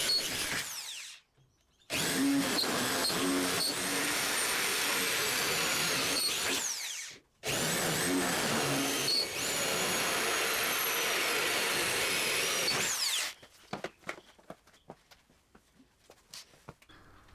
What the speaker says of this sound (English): a quick vacuum to pick up the swarf made by the drill